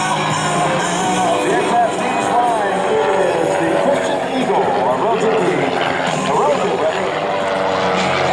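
A rescue aircraft tumbles at a 2022 Fairchild AFB Skyfest airshow, its engine a continuous droning roar heard under loud public-address commentary and crowd noise.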